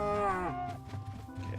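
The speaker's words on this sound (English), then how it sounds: "We can start to collect the leather from these cows here." Cows mooing in a video game, a long drawn-out low moo at the start followed by softer lowing and shuffling, clear and fairly close with no talk.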